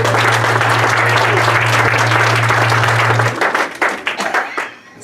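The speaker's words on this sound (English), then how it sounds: "Ladies and gentlemen, how about a round of applause?" Audience applause breaking out after a request for a round of applause, dense and loud for about three seconds, then thinning into scattered claps that fade out, with a steady low hum beneath the first part.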